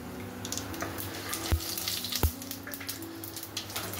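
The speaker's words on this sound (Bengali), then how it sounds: "আর এখানে আমি আবার কড়াইতে তেল দিয়ে দিয়েছি, আর এখানে কিছু গোটা গরম মশলা দিচ্ছি।" Whole garam masala (cinnamon, cardamom, caraway, black pepper) frying in oil in a wok for egg biryani, a soft continuous sizzle with two sharp utensil knocks, no talking.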